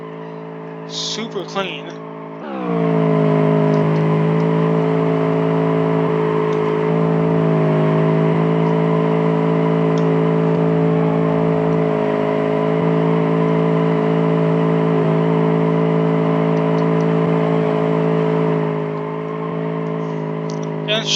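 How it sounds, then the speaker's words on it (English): A front-wheel-drive supercar in BeamNG holds a long, loud drift, its tires squealing in a steady sustained wail with the engine underneath for most of the stretch. A voice speaks briefly at the start. "look how clean this drift is"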